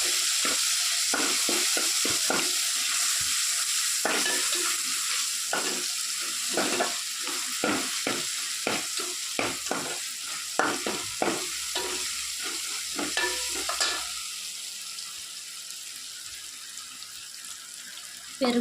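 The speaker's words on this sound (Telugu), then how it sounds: "అల్లం వేసుకున్నాము అల్లం కలుపుకుని పచ్చివాసన వరకు వేసుకున్నాం" Ginger is stirred and fried in a pan while egg masala curry is being made: continuous close sizzling with repeated scraping strokes of a spoon against the pan, steady for most of the span, then easing toward the end.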